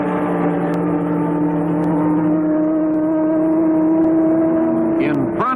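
Ford GT prototypes racing at the 1966 Sebring 12 Hour, a loud, sustained, high-revving engine roar with steady harmonic whine and a brief pitch shift at the end as the cars pass.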